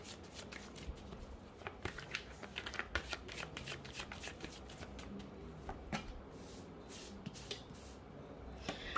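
Tarot cards are shuffled steadily and close by, a continuous papery riffling with quick flicks and soft slaps running throughout at low volume.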